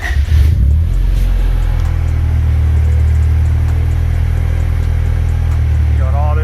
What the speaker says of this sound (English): Now if I start the car, which I'll just do real quick.